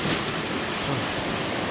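Loud, steady roar of a rushing river current at Pagsanjan Falls in Laguna, a dense broadband wash of water heard up close without break.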